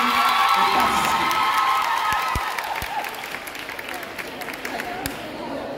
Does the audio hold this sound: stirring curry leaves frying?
no